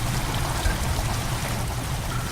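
Water pours and gushes steadily into a chamber in Amnesia: The Dark Descent, a continuous, fairly loud rushing stream with no pauses.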